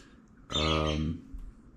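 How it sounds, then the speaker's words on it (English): A single bright, harmonic call from a pet bird rings out for about half a second, fairly close, against a quiet indoor background. "sorry, my birds are loud"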